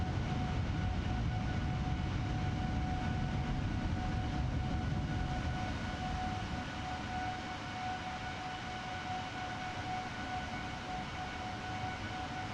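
An Airbus A320neo in Microsoft Flight Simulator, heard from outside the plane, gives a steady, even jet-engine roar with a thin whine running through it, constant throughout and without speech.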